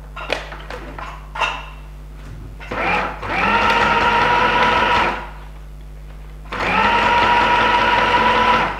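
A sewing machine stitches the right sides of a purse lining together in two sustained runs of steady, close mechanical whirring, with a brief pause between them and a few small taps and clicks beforehand.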